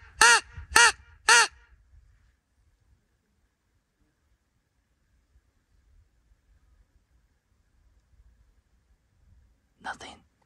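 A crow call whistle imitates a crow at Chaco Culture National Historical Park in New Mexico: three loud, harsh caws in quick succession, then a long quiet pause before one more caw near the end.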